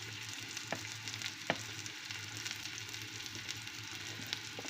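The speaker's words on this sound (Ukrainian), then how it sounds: "Розігріту сковорідку я вляла півтори столові ложечки олії. Висипала цибульку" Onions sizzle and crackle steadily in hot oil in a pan, with occasional sharper pops and stirring sounds over a constant frying hiss.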